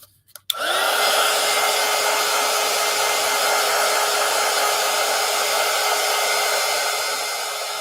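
A hair dryer switches on after a brief click and blows steadily and loudly at close range over a collage pumpkin craft, a constant whooshing whine with no talking.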